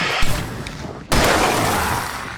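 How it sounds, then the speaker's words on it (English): Fireworks in Alan Wake Remastered go off in a loud, dense roar of crackling blasts, cutting out briefly before a sharp new burst surges back and sustains. "I can set off more of the fireworks from here and help you out!"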